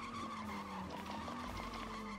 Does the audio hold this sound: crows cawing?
no